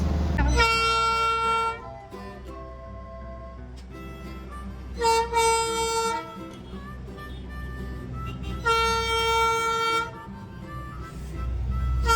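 The Darjeeling Himalayan Railway toy train sounds three long, bright horn toots spaced several seconds apart over a low rumble of running on the line, loud and close.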